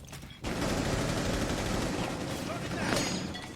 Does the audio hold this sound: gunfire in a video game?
yes